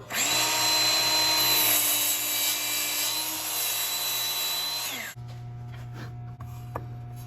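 A power saw cuts through wood on the scrap side of the line, a loud high whining buzz holding steady for about five seconds, then the blade winds down into quiet shop hum with small knocks.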